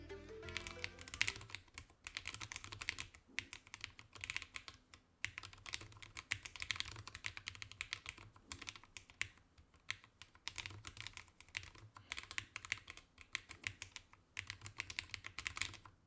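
Close, steady typing on a KBDCraft Israfel keyboard fitted with pre-lubed MX-style low-profile switches in a slightly hollow case, a brisk run of light clacky keystrokes with no talking.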